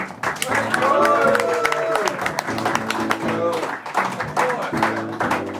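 A TV studio audience applauds a guest introduced on a French entertainment show, the clapping steady and full through the clip, with a musical or sung tone running underneath.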